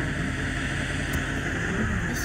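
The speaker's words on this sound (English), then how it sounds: "Recycled engine sound." A recycled car engine sound from a driving video game, heard as a brief steady engine hum with no voices.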